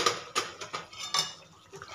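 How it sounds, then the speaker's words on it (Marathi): A spoon scrapes and clinks against a pan while dhaba-style paneer masala is stirred, making several distinct metallic knocks at an uneven rhythm, close and fairly loud with no speech. "हे परत मिक्स करून घ्यायचं"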